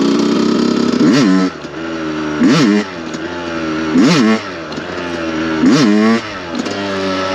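A Yamaha YZ 125 two-stroke motocross bike revving hard for a wheelie, with four or five rising throttle blips over a steady buzzing idle, loud and close.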